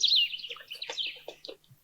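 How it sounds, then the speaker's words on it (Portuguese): A small family of bico-de-osso birds sings in a tree canopy in the Caatinga, with bright chirps and whistled notes trading quickly in a close, clear burst over a quiet background. "uma família de pássaros bicos de osso entoa seu canto"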